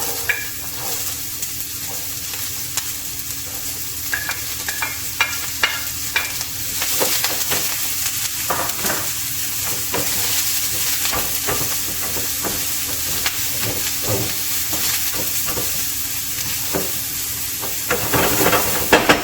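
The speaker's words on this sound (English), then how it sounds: "I always love the smell of red onions when they're frying" Red onions fry in a pan over medium heat, a steady close sizzle and hiss with occasional stirring clicks and scrapes, continuing without speech throughout.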